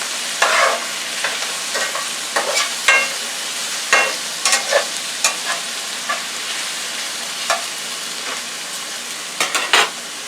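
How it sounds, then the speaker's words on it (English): Vegetables cooking in a pan make a continuous sizzle, with scattered brighter crackles and stirring scrapes at a moderate, close level. "let me see about the vegetables cooking here"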